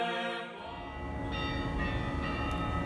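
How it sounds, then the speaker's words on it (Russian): Church bells peal at the Kremlin's Dormition Cathedral for the festive liturgy on the Day of the Baptism of Rus, a rich sustained ringing with layered overlapping tones that swells loudly after a brief quieter start. "Именно таким звоном встречали колокола людей, идущих на праздничную литургию в Успенский собор Кремля."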